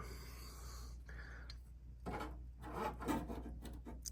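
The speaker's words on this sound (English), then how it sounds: "So it's easy. All right, so I filed with this guy." A hand file rasps against a steering column support for an Oldsmobile Cutlass Supreme, giving a few faint, uneven scraping strokes close by with no talk.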